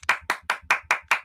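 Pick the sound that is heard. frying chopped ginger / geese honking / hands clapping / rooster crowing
hands clapping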